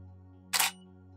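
A single crisp click of a single-lens reflex camera shutter taking a macro photo at f/7.1 and 1/200 s with a macro flash, sharp and brief over a steady electrical hum.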